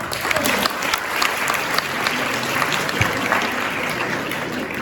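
An audience in a hall for a morning faculty development session applauds, a dense burst of clapping from many hands that holds steady for a few seconds, fairly close, with a faint murmur of voices.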